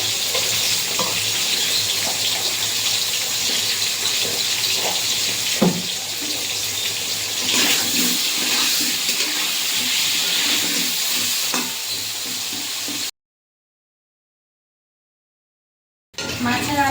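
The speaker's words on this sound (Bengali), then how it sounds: "আলুটা ভেজে নেবো" Potatoes fry in a pan with a loud, continuous sizzle and frequent stirring noises up close. The sound cuts out briefly near the end, then resumes.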